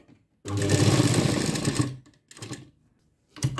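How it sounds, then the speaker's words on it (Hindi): A sewing machine stitches blouse fabric in one steady whirring run of about a second and a half, then a brief burst and the start of another, close and clear with no talking. "पहले तो हमें इसे यहाँ पर लॉक करना है सिलाई करके"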